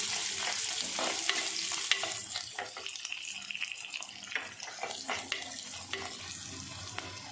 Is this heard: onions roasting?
yes